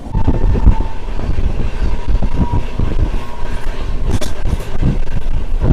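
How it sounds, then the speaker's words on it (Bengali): A loud, steady rumble of the Kanchankanya Express running at about 126 km/h, with rattling carriages and rushing wind, continuous throughout without any talking. "আমাদের ট্রেন 126 কিলোমিটার বেগে চলে চলেছে"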